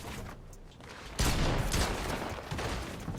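Gunfire in a video game shooter, with a sudden loud burst of rapid shots about a third of the way in, then continuing dense, noisy shooting.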